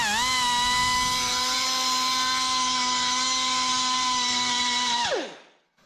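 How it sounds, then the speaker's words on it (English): A small angle grinder fitted with a reamer bit deburring metal on a '66 Chevy dually truck bed: a steady high-pitched whine held for about five seconds, then spinning down to a stop. "this little angle grinder here. Got kind of a reamer bit on the end of this."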